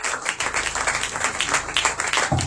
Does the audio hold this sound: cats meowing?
no